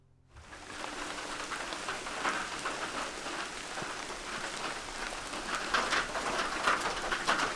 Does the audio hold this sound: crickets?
no